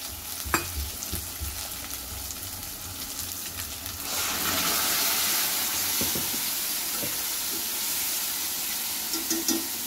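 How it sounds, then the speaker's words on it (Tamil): Water rinsed from a masala container is poured into a pot of simmering dried-fish kuzhambu, setting off a loud, steady sizzle and hiss that builds halfway through, with a few stirring clinks and no talk. "இப்போ சாரை கழுவி ஊற்றிக்கிடுவோம்."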